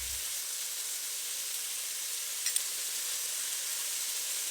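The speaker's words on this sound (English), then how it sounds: "continue to stir-fry the tomato and onion" Tomato and onion stir-fry in a hot wok, a faint, steady sizzling hiss with a couple of brief clicks partway through and no talk.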